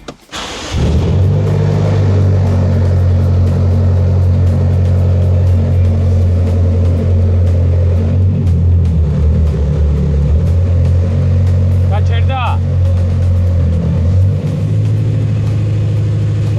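A BMW F10 M5 engine fitted with a swapped 8HP gearbox runs with the car lifted and wheels spinning in the air, a loud steady rumbling drone after an opening burst, with one brief higher rev near the end.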